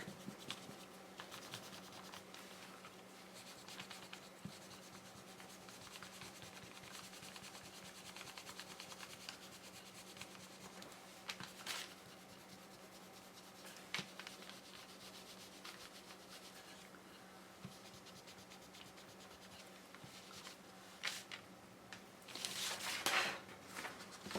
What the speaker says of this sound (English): make sure you go in and erase any of the pencil lines that you see that you can possibly erase